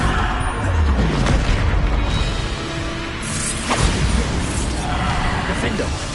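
Heavy blasting-spell explosions from the Hogwarts Legacy video game, the Bombarda spell, boom and crash in repeated bursts over a dense, rumbling game soundscape, with a voice speaking throughout.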